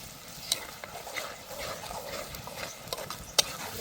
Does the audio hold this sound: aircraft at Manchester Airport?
no